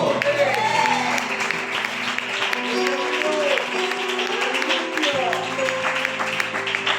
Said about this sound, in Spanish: Los que lo crean, dale un aplauso al Señor.